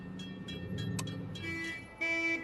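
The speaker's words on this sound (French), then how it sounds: "t'as relié mon klaxon à mon clignotant" A car horn rigged to fire with the turn signal gives repeated short toots in a steady on-off rhythm, then a longer held honk near the end, heard inside the car over low engine rumble.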